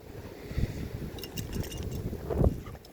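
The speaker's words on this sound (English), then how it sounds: "Oh man, that is some wind and cold." Strong cold wind gusts through a snowstorm in a steady, rough rush that swells and fades in close, blustery bursts.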